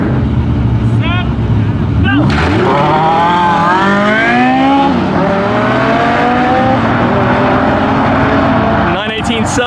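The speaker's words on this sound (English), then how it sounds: "The cars are all getting underway." Hypercars, including a McLaren Senna and a Bugatti, pull away off the line in a drag race, their engines rising steadily in pitch as they accelerate. The roar is loud and continuous, with a person talking over it throughout.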